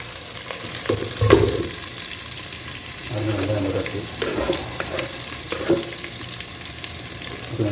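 Onions frying in oil in a pan for a Tamil cabbage potato poriyal, with a steady sizzle and intermittent stirring and clattering bursts close by.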